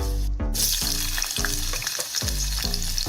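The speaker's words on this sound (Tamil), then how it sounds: "அப்படி ஒரு முறையும் கத்திரிக்காய் பொறிச்சு பொறிச்சு எடுத்து வைக்கணும்" Brinjal pieces crackle loudly while deep-frying in hot oil for a wedding-style Tamil eggplant dish, with regular stirring strokes over a steady sizzle.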